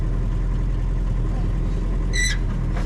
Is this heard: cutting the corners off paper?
no